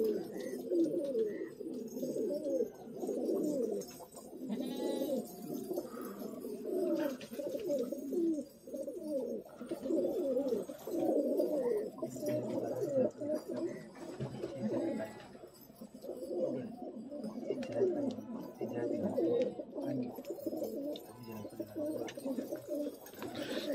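Many pigeons for sale at a market near Jama Masjid, Delhi, coo continuously in low, throaty warbles, a dense overlapping chorus close by with no pauses.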